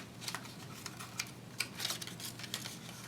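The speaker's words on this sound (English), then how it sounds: "I take my scissors and I cut" Close, sharp snips and crisp rustles repeat irregularly, like scissors cutting through paper in a quiet room.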